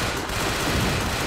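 Gunfire fills Resident Evil: The Darkside Chronicles on the Wii, a loud, dense, continuous rattle of rapid shots with no pauses.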